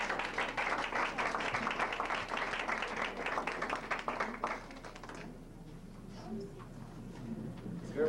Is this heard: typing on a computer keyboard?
no